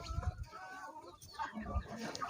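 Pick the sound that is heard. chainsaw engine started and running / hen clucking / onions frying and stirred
hen clucking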